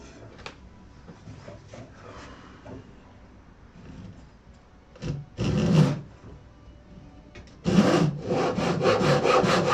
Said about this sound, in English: you really need one of these razor saws. Seriously, they are good fun. Cut wood like butter.